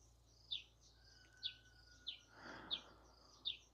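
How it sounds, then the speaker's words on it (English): A single bird chirps five times at a steady, slow pace against a quiet background with rushing water, with a soft rush of noise briefly in between. "Tuning into sounds of rushing water and birdies chirping."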